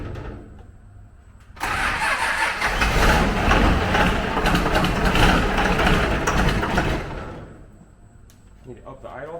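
An engine, just primed with fuel that still has air in the lines, catches and runs roughly at a loud, uneven idle for several seconds, then cuts back down, with people talking nearby.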